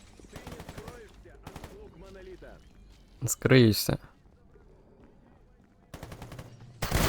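Someone talks, then loud bursts of Kalashnikov automatic rifle fire in the game S.T.A.L.K.E.R. GAMMA break out, with short volleys repeating after a pause.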